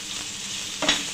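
Spice powders being stirred into potatoes and carrots frying in a pan, with a steady close sizzle and one brief scrape of a spoon near the end.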